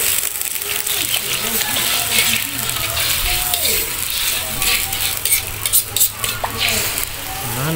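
Vinegar goes into a simmering sweet and sour fish sauce, which sizzles loudly and steadily while a spoon stirs and scrapes the pan close by, with a voice now and then in the background.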